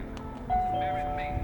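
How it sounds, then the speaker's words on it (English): A Nest Hello video doorbell chime sounds as a clear sustained tone at close range, cutting in over ongoing talking. "let's start with what happens when you ring the doorbell"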